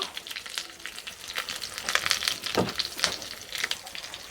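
Pointed gourd pieces frying in oil in a pan, a continuous crackling sizzle with scattered louder pops and stirring scrapes, moderately quiet.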